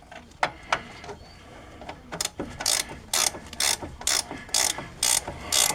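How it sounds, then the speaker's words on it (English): A ratchet backs a bolt out during upper ball-joint replacement on a 2007 Chevrolet Silverado or Avalanche, with scattered clicks giving way to a regular run of crisp, loud ratcheting strokes close by. "I can remove the bolt the rest of the way."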